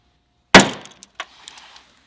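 A single sharp, loud pop as a dent puller glue tab pops off a BMW 435i panel, followed by a few small clicks and rattles fading away.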